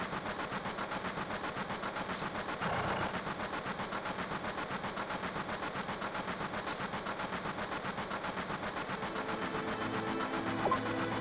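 Train running in Final Fantasy VII, a steady mechanical rumble and rattle that continues throughout, with a couple of brief high hisses and a slight swell near the end.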